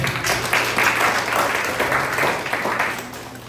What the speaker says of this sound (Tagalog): Malakas na palakpak para sa Panginoon